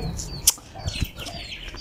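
Desi fighter chicks and a hen flap their wings and cluck softly, with a single sharp flutter near the start and faint scratchy movement afterward, fairly quiet overall.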